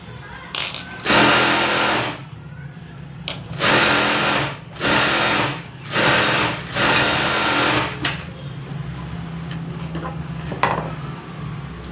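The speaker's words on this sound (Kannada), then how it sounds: "ಲೈನಿಂಗ್ ಮೇಲೆ ಬರೋ ಥರ ಒಂದು ಸ್ಟಿಚಿಂಗ್ ಹಾಕ್ತೀನಿ." A sewing machine stitches along fabric lining in bursts of steady whirring, stopping and restarting about five times, loud and close, with brief quiet pauses between runs.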